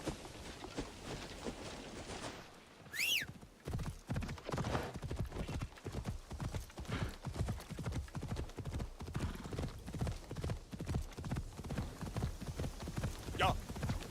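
Horse hooves clip-clopping at a steady trot while riding in the video game Assassin's Creed Shadows, a rapid even rhythm of close, fairly quiet hoofbeats with a brief whinny near the start and a short sound around halfway.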